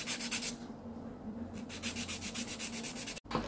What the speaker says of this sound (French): je pars d'un côté et je vais remonter vers le haut en limant